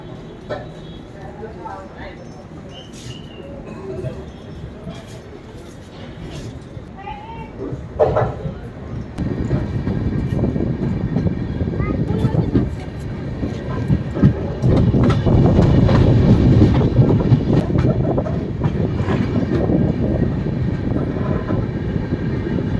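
Darjeeling Mail passenger train pulling out of Kishanganj station at night, a low rumble that builds steadily into rolling wheel noise and clatter over the tracks, heard from inside a sleeper class coach.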